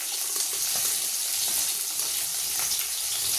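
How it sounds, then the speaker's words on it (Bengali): Fish fries in a pan, making a dense, even hiss of oil that holds steady and fairly loud for a few seconds with no other sounds. "এখানে মাছটা ভাজা হচ্ছে"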